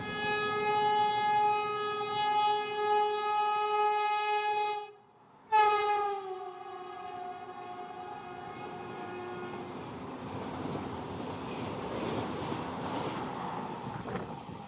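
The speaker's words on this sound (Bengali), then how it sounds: "থেকে তো বন্দে ভারত চলে গেল" A Vande Bharat Express train in Jharkhand sounds a long, loud, steady horn that breaks off briefly and resumes, followed by the rushing, rumbling roar of the train passing close by.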